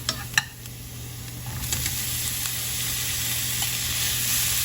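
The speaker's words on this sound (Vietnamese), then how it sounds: "Bạn xào bạn thấy cái tỏi nó hơi săn lại rồi mình cho nấm vào ha." Garlic and mushrooms stir-fry in a pan with a continuous bright sizzle, a couple of sharp utensil clicks at the start and scattered light scrapes as the hiss holds steady and close.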